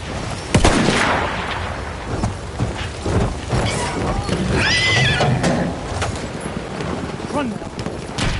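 Horse in Battlefield 1 multiplayer gameplay, whinnying and neighing amid clip-clop hoofbeats, with scattered gunfire and battle noise around it and a voice talking intermittently.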